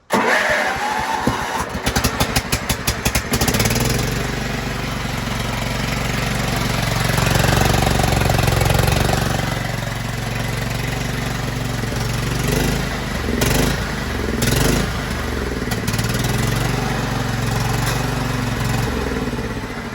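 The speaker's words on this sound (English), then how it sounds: "Having trouble getting that gas through there. That carburetor is all messed up." Small engine on a homemade machine with a faulty, fuel-starved carburetor cranking and catching, then running steadily and rough, loud and close throughout with a few surges and dips.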